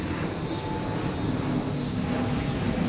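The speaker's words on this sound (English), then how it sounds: "another plane is flying over my head" Passenger airplane, a LOT Polish Airlines jet, passing overhead as a steady, broad roar with a slowly shifting whine, continuous and fairly loud throughout with no talking.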